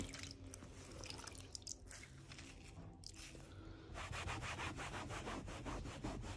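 Someone scrubs at a ring-shaped stain on a piece of furniture, making close, quiet rubbing strokes. The strokes speed up into a brisk, regular back-and-forth in the last seconds, with no talking.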